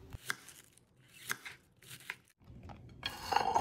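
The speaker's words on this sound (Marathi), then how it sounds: "या ठिकाणी मी एक कोबीचा गड्डा घेतलेला आहे. तो आपण आता चिरून घेत आहोत." A knife cutting through a head of cabbage on a board, with quiet crisp slicing strokes in an uneven rhythm of about five or six cuts, close and without speech.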